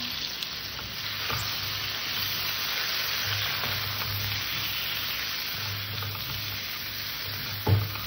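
A curry sizzles steadily while being stir-fried in a pan, a close, constant frying hiss with occasional scrapes of a spatula and one sharper clank near the end.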